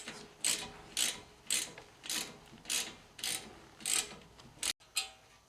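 Hand ratchet turning a nut on the steering gear of a Porsche 944, about nine quick clicking bursts in a steady back-and-forth rhythm, close and fairly quiet.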